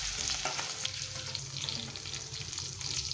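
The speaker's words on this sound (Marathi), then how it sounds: "आता यामध्ये आपण अद्रक आणि लसणाची पेस्ट घालून घेऊया, आणि हिरवी मिरची घेतली होती तीही घालून घेतली आहे। 1 मिनिट ही छान फ्राय होऊ देऊया," Ginger-garlic paste and green chillies frying in a pan for masala pav: a steady, close sizzle with spoon-stirring scrapes running throughout, and no talking.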